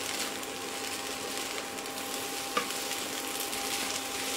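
Egg pasta with scrambled egg is stirred and tossed in a hot pan, giving a steady, even sizzle with light scraping and one brief clink partway through.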